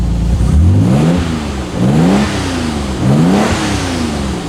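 A Mazda RX7 FD rotary engine runs nearby and revs repeatedly, three rising surges of roughly a second each with the engine dropping back between them, loud and with no talk.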